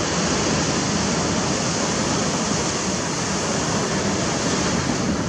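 Steady broadband surf at Trigg Beach, Australia, a continuous wash of breaking waves with no distinct crashes, fairly loud and unbroken throughout, with no voices.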